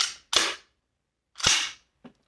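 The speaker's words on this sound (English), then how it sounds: "while continuing to hold the trigger in a depressed position, I'm going to go ahead and charge the weapon" A rifle is charged with its trigger held depressed, giving two sharp, loud metallic clacks about a second apart and a fainter click after, each short and distinct against silence.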